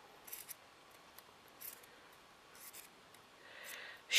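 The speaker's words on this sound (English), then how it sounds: "show these scissors need sharpening." Several short, crisp snips of dull scissors needing sharpening, spaced irregularly, close and fairly quiet, ending with a louder rustle.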